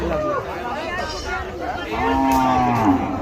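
Cows moo loudly and close at a busy Qurbani cattle market, with a long drawn-out low swelling near the end over a steady murmur of crowd chatter and voices.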